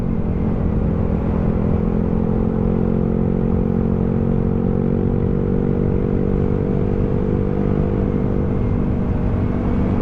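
A motorcycle climbs a steep uphill road on a ride to the Monte Maria shrine near Pagkilatan, Batangas City. Its engine drones steadily and close by for the whole stretch, a continuous hum with no voices.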